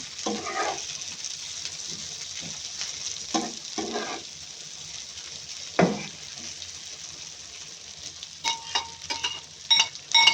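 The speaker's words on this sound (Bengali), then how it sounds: "এভাবে ভাজি করলে করলাম আমার কাছে ভালো লাগে, একদম তেল তেল করে।" Vegetables with onion and chili fry in plenty of oil, giving a steady close sizzle broken by occasional scraping stirs and sharper spatters toward the end.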